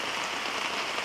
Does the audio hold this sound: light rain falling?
yes